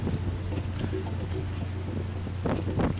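Strong gusty wind buffets the microphone on an exposed hilltop trail on the Matsu Islands off Taiwan, a steady roar with louder bursts near the end and no voices.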